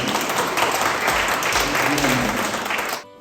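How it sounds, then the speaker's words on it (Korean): A hall audience at a Korean Red Cross volunteer association gathering in Suncheon bursts into warm, dense applause for a local donor, loud and steady for about three seconds before stopping abruptly. "박수 뜨거운 박수 한번 주세요"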